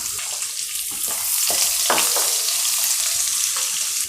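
Sliced medium onion drops into hot oil with cumin and sizzles loudly, a steady hissing fry broken by a few stirring scrapes, close and continuous without any voices.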